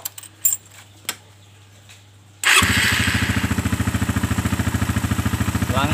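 A Suzuki Satria F motorcycle with a carburetor is fitted with a PE 26 carb, and a few faint clicks come before its engine fires up abruptly, then settles into a loud, fast, even idle.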